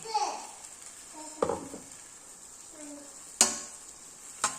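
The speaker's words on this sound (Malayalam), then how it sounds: "നന്നായിട്ട് മിക്സ് ചെയ്യാം" Tomato gravy stirred into macaroni sauce in a pan, with several distinct spoon scrapes and clanks against the pan spaced a second or two apart over a faint sizzle.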